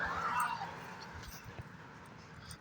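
Outdoors on a hike, a dog lets out a high, thin whimpering whine up close at the start, which fades into quiet open-air background.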